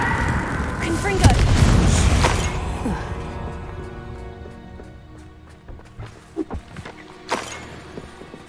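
Fire spell explosion in the Hogwarts Legacy video game: a loud, rumbling boom near the start that swells and slowly fades, followed by several sharp smaller bangs and crackles toward the end.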